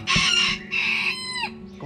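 A short-legged rooster crows loudly and close by, in a strident call followed by a second, falling phrase, with a faint cluck at the end.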